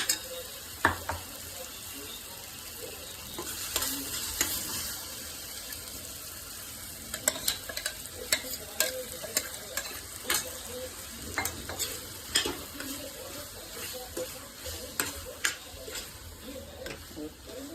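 Thick masala paste sizzling gently in oil in a pan while a spoon scrapes and stirs it in irregular clacks, fairly close and moderately quiet.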